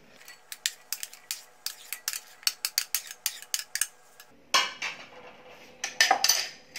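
Chopped onion, corn and other vegetables are tipped into a bowl with a quick run of sharp metal clinks and taps from a spoon against the bowl, then a louder scraping, rustling pour.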